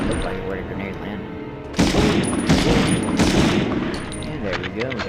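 In the PS1 game Medal of Honor, bursts of gunfire crackle in rapid volleys, loud and close, after a quieter opening, with someone talking over the shooting.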